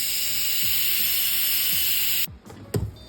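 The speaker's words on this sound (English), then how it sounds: "the pressure cook is done. I'm gonna let it steam out." A pressure cooker holding turkey wings vents steam in a loud, steady, close hiss that cuts off abruptly near the end, followed by a few soft clanks.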